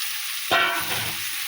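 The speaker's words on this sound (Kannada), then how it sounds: "ಇದು ಮೆಂತ್ಯ ಸೊಪ್ಪನ್ನು ಹಾಕ್ತೇವೆ ನೋಡಿ" Fresh fenugreek leaves drop into a hot pan, setting off a sudden burst of sizzling that swells and then settles into a softer frying hiss, close and with no voices.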